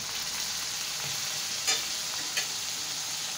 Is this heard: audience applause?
no